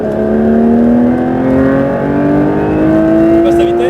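A Porsche GT3 RS on the Le Mans circuit is held at full throttle. The engine note climbs steadily and loudly for several seconds as the car accelerates, with a continuous droning roar.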